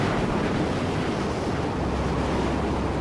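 Storm wind roaring in the Mad Max video game, a loud, steady broadband rush with gusty surf-like texture that fills the whole stretch without pause, and no talk.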